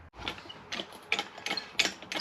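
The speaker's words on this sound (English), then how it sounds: "I'm going to lift up the control arm so I can get those top bolts in." Jacking up the rear control arm on a Jeep Cherokee KL, a jack makes a series of close, rhythmic mechanical clicks and ratcheting strokes in quick succession.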